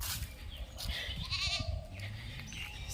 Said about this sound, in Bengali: ছাগলগুলো চিল্লাচ্ছে দেখো বন্ধুরা